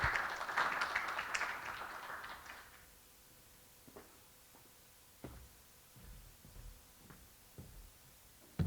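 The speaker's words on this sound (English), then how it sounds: "Please, warm applause to welcome on stage Walter." Audience at a forum on EU–South Korea digital convergence applauding to welcome a speaker on stage, a dense burst of clapping for about three seconds that fades out, followed by a few scattered faint thumps.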